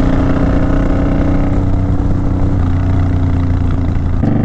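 Suzuki Boulevard motorcycle engine with the throttle opened, a steady loud low rumble running throughout, shifting pitch slightly near the end.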